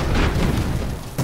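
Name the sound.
guns firing in steampunk 40k simulator video game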